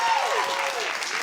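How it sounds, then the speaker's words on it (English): An audience at a high school quiz competition breaks into a brief, dense burst of applause, loud and continuous throughout. "Big applause"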